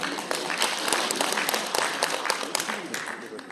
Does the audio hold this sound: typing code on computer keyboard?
no